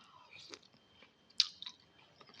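Raw onion is bitten and chewed during an instant chicken-broth noodle meal, giving a few quiet, close crunchy bites and moist chewing sounds spread over a couple of seconds with no talking.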